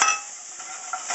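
Onions sautéing in canola oil give a steady, close, bright sizzle and hiss, with a faint clink of a pan or utensil near the end and no talking.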